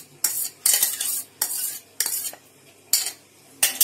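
Ground poha being stirred into idli batter in a bowl: a series of bright scraping, swishing strokes of a spoon, about six separate bursts with short pauses between, close and clear with no voices.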